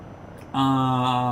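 Rotor and turbine drone of a Eurocopter helicopter in Microsoft Flight Simulator 2024 after Sim Update 5, a steady harmonic whine that jumps sharply louder partway through and then holds constant, with no talk.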